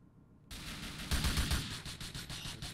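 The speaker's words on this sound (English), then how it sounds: "Carbine so much. Such a good gun." Carbine gunfire in the game GTA4: after a brief quiet start, a loud run of rapid, closely spaced shots rings out, with a heavier cluster of bursts in the middle, all alone without talk.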